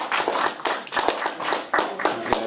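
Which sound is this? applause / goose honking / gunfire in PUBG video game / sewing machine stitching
applause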